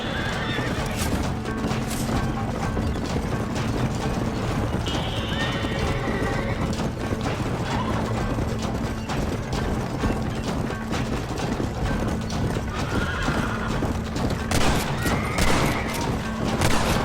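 Horses pulling a wagon in Red Dead Redemption, a steady clip-clop of hooves with occasional neighs, wooden creaks and distant gunfire throughout.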